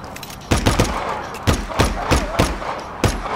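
Rapid bursts of gunfire from the video game Just Cause 3, in close, loud volleys of sharp cracks and short automatic rattles spaced about half a second apart across a combat zone.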